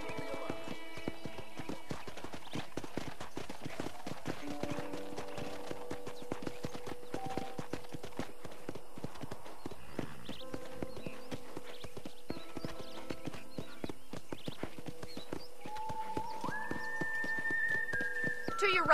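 A horse in the video game Red Dead Redemption trots with a steady rhythmic clip-clop of hooves, with a whinny near the end, under faint background tones and occasional speech.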